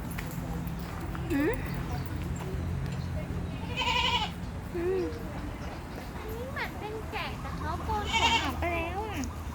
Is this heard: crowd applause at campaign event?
no